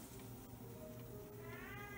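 A cat meows faintly from another room, its cries muffled as if through walls, over a steady low background hum.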